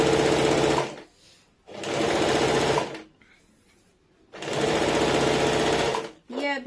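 A loud, close sewing machine hems a palazzo leg in three long, steady runs of rapid stitching, separated by brief quiet pauses with soft fabric handling, and a voice begins at the end.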